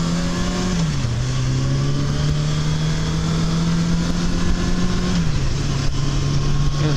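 A car engine with clutch trouble drones steadily while driving, its pitch stepping down twice as if shifting or slipping, loud and continuous with no talk.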